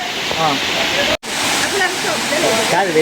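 A waterfall at a camping and sightseeing spot roars steadily and loudly, while voices talk over the rushing water, which drops out for an instant partway through.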